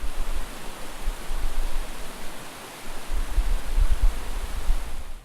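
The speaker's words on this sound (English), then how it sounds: "You can tell it's spring when Chester Creek can be heard through the trees" Chester Creek in spring runs over rocks, a steady broadband rush of flowing water with low rumbling surges, continuous and fairly loud.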